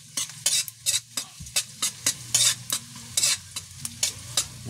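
Ginger (luya) sautéed in a pan, with rhythmic scraping stirs at a steady pace over a low bubbling sizzle, close and fairly loud, no voices.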